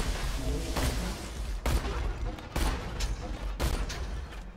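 Gunfire at a robot in Borderlands 2, a series of punchy shots in irregular bursts of about six strong cracks over rumbling game noise, with some talk mixed in.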